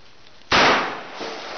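A Ruger Blackhawk revolver fires a single 158 hollow point round at an outdoor shooting session: one sudden, loud, close blast that dies away into a lingering rumble.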